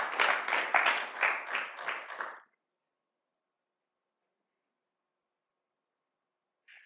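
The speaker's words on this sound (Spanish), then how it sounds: "Recibámoslo con un fuerte aplauso también" Short burst of audience applause at an academic talk, a handful of quick claps over about two seconds, then silence with a faint sound at the very end.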